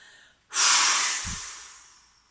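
A single slow, forceful exhale through the mouth during a sophrology relaxation exercise, close and breathy, rising suddenly and then fading gradually over about two seconds.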